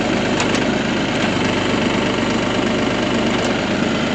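Steady tractor engine idling with a low mechanical drone and faint knocking vibration while the front third hydraulic function is worked, continuous and close, with no voices.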